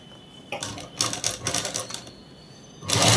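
A sewing machine stitches cloth near elastic in a rapid, even mechanical chatter, running in two loud close bursts separated by a short pause.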